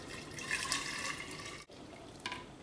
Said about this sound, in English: So I'm taking the pitcher and pouring it into here.